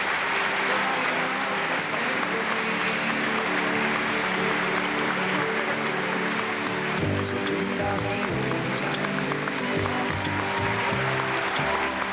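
Applause from the audience at a calypso showcase, sustained crowd clapping with musical tones underneath, steady and moderately distant throughout.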